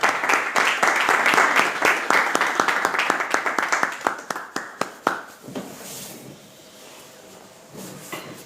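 Congregation at a church men's meeting clapping together after a prayer, a dense burst of handclaps that thins out and fades to scattered claps and quiet room noise.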